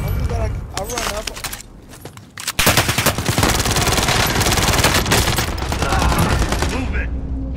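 Automatic gunfire in the video game Warzone erupts loudly after a quieter stretch and keeps going in sustained bursts, with players talking over it.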